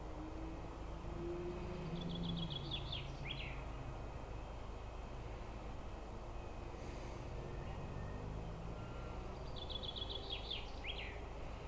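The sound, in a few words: bird singing in a tree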